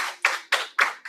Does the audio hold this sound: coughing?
no